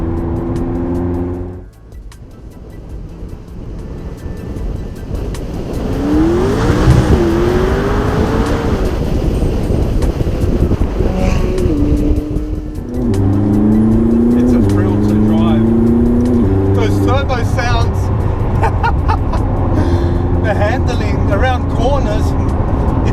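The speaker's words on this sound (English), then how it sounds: "The car picks up speed like I've never seen before." A McLaren 675LT on Trofeo R tyres accelerating hard, the engine note rising and climbing through gears in a loud, close onboard roar, with someone talking over it.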